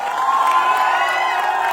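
A crowd at a rally in Patna, Bihar, cheers and hoots with rising whoops and shouts, a dense and loud sustained roar of many voices close by.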